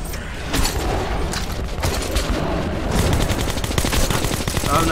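Rapid, sustained gunfire from a first-person shooter, Metro 2033 Redux, dense bursts of shots rattling continuously at close range for about five seconds with no talk.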